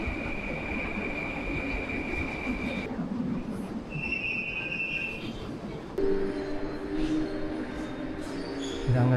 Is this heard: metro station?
yes